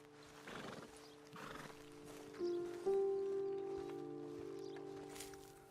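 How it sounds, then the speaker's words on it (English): Horses in the Red Dead Redemption 2 video game clop along with soft hoof steps, then one lets out a loud, drawn-out whinny that rings and fades, fairly near in a quiet outdoor scene with no talking. "Okay, let's dismount here. Best leave the horses back a bit."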